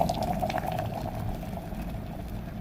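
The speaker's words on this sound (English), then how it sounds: "You can hear the water steaming." Electric kettle running off a 1000W modified sine wave power inverter brings water to a boil, a steady close bubbling and seething rumble with a faint hum, heard alone without speech.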